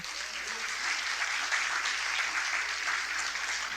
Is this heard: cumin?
no